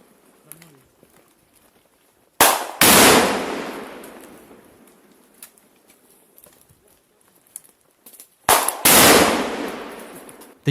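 Two loud, sharp blasts from bombs dropped near trenches in close-quarters combat burst out separately, each decaying into a long rumbling tail, with faint crackles and quiet stretches between them.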